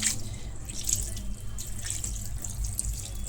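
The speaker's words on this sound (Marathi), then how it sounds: "त्याच्यामध्ये थोडंसं आपल्याला थंड पाणी सुद्धा टाकायचं आहे" Cold water pours from a tap onto steamed noodles in a kitchen, a continuous close splashing stream with light drips and no talking.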